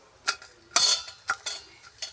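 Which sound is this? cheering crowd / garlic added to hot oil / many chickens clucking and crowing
garlic added to hot oil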